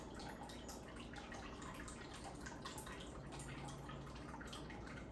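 Aquarium water is emptied into a sink, making a steady, close rush of splashing and trickling liquid with no pauses.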